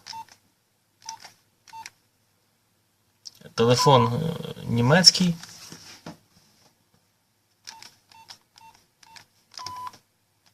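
Nokia 9110 communicator keypad beeping as a PIN code is entered, several short sharp tones in loose groups before and after someone speaks in the middle.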